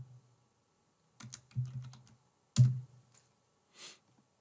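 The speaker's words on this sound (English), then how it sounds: "So I am typing the name as Airtable bot." Someone types a short name on a computer keyboard, a few quick bursts of clicking keystrokes separated by brief pauses, close and clear in an otherwise quiet room.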